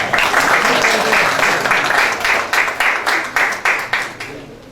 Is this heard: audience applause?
yes